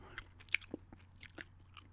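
Soft, close gum chewing with moist smacks and small clicks in an irregular rhythm, quiet and intimate with no talking.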